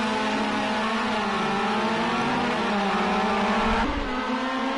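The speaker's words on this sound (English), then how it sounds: "Lots of cars coming around that corner." Race cars rounding a corner during a battle circuit event at Oschersleben, several engines droning loudly and continuously with shifting pitch, a dense pack of cars at close range.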